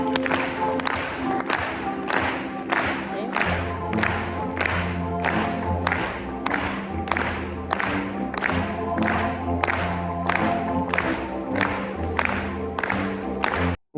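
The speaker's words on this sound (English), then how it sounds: "Before every film, people clap in a rhythmic way, following this music that repeats in every film" Film festival audience clapping in a steady rhythm along with a repeating musical theme before a screening, the claps evenly spaced and sharp over sustained music throughout.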